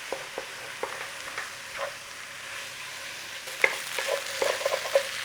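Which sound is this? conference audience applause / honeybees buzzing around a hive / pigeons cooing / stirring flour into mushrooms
stirring flour into mushrooms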